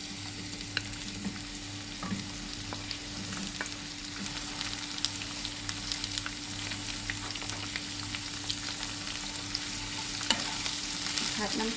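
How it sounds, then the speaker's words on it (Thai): Bottle gourd stir-fried in a pan gives off a steady, soft sizzle with scattered scraping and clicking from stirring, over a constant low hum. "ผัดน้ำเต้าให้สุก"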